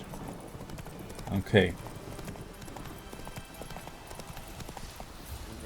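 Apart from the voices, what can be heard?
horse Roach trotting hooves in The Witcher 3 video game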